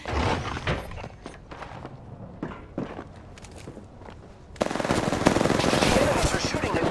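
Rapid automatic gunfire in an Apex Legends match cracks and rattles close by, mixed with footsteps and other shots. A dense, loud burst of sustained fire takes over in the last couple of seconds.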